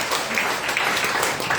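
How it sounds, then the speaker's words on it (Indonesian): A church congregation applauds at a Sunday service, a dense wash of many hands clapping steadily throughout, fairly loud and without a clear rhythm. "Beri tepuk tangan buat Tuhan Yesus."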